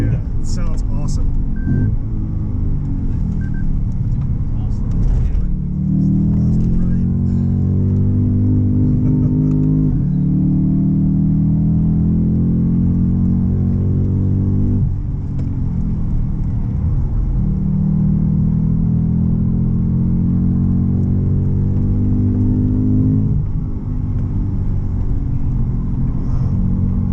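A Lexus race car engine drones and rises through repeated gear pulls as it laps Lime Rock Park, loud and steady, with people talking over it.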